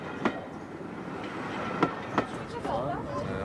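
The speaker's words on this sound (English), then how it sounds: "I'm recording the sound of the locomotive." Flying Scotsman steam locomotive running on rails, a steady moderate rolling rumble with a few sharp clanks and faint speech mixed in.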